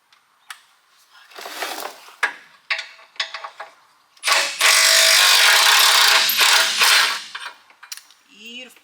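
A ratchet wrench works a 15 mm bolt on a sway bar link of an 05 Dodge Cummins truck, with a few short clicking bursts followed by a longer, louder run of ratcheting close by.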